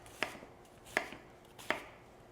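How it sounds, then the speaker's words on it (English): A knife dices an onion on a cutting board, three crisp evenly spaced chops standing out clearly against a quiet kitchen background. "when I'm dicing my onion, I tend to cut it one direction, turn it 90 degrees,"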